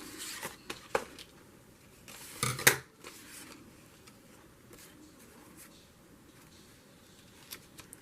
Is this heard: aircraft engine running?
no